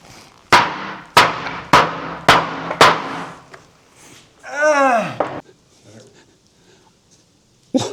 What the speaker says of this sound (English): I hammered a knife into a piece of steel.